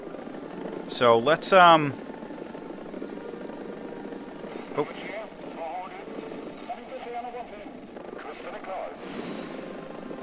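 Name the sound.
helicopter in video game War Thunder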